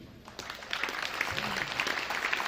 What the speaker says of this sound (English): a final round of applause for our boys senior basketball players